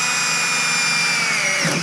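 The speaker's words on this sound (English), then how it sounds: "What if this drill bit's so dull it doesn't even work?" A drill with a dull bit bores holes through a Superjet 1200 jet ski hood, giving a loud, steady high-pitched whine that holds throughout and dips slightly near the end, with no voices.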